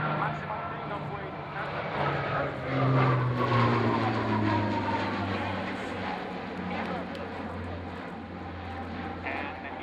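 A heavy 70,000-pound aircraft accelerates through a full aileron roll at the Fairford airshow, a loud sustained engine drone with rising and falling tones, heard under a commentator's talk.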